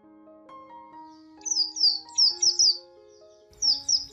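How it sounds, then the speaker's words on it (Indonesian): Birds chirp in bright, high bursts, several short warbling phrases that come and go over soft sustained music notes on a sunny morning. "disertai kicauan burung yang berlarian ke sana kemari"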